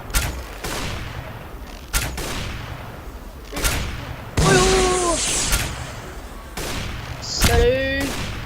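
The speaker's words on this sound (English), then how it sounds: "Rocket launchers ready. Fire!" Rocket launchers fire in the Flood mode of Garry's Mod, a computer game, as several sharp booming blasts spaced a second or two apart, with a louder, longer burst of explosions near the end.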